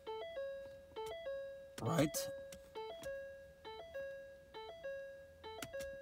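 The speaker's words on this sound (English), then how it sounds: "I should have turned off that door open chime, so we wouldn't have to listen to it." A repeating two-tone electronic door-open warning chime in a 2012-2014 Ford Focus with the ignition on, sounds steadily about once per second, with a brief burst of speech partway through.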